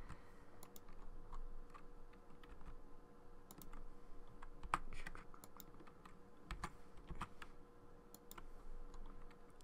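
Soft clicks of computer keyboard key presses while working in Blender, scattered taps at an irregular pace over a low steady hum, fairly faint and close, with no talking.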